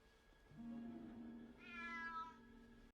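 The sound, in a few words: cat meowing in the Harry Potter film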